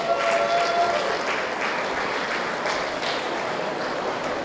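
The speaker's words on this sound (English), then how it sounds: "So a big applause to the competitors who made those." A large crowd applauds steadily throughout, a dense wash of clapping with no voices standing out.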